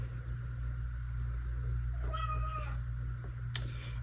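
Cat meowing in the background of a room, a single faint, drawn-out meow over a steady low hum, followed by a brief click.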